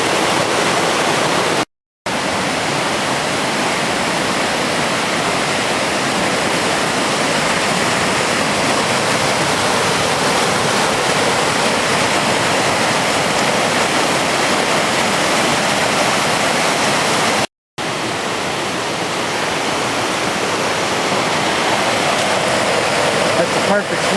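Loud, steady rushing water where the Casaga River meets a small feeder stream in the wilderness, a continuous broadband roar close by with two brief dropouts and no talk over it.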